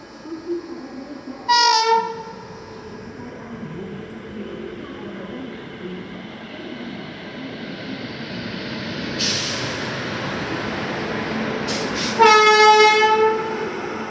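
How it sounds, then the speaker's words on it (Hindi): The 15127 Banaras–New Delhi Kashi Vishwanath Express arriving at platform 8, its horn blaring loud and close in two blasts over a steady rumble of rolling rail cars. "तो अभी 15127 बनारस नई Delhi Kashi Vishwanath express platform number 8"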